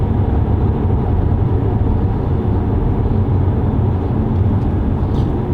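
An Audi A5 Sportback TFSI quattro accelerates with its transmission in sport mode, a steady, loud, close engine drone with road roar inside the cabin, holding constant throughout.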